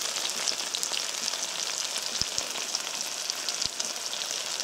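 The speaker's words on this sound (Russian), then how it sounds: "Масло, видите, шкварчит." Crucian carp fry in oil in a pan on a wood stove in the taiga, giving a steady, loud crackling sizzle throughout with a few low knocks and no talk.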